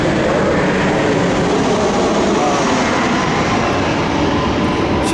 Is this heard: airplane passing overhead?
yes